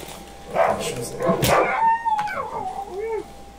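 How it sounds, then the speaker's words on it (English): Dogs in the video game Dark Wood bark and yelp, then let out a rising howl, loud and close over game sounds. "These dogs are actually pretty easy because they just sprint at you"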